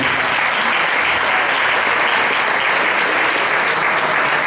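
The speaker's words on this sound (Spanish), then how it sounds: "Entonces un fuerte aplauso para ellas dos también por la labor que desarrollan." Loud, dense applause from an audience at a Christmas show in Puerto de Sagunto, honouring the dance teachers, a continuous roar of clapping filling the whole stretch without a break.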